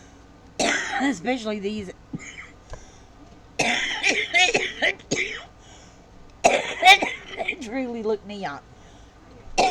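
A person talks with coughs and throat clearing mixed in between phrases, close to the microphone.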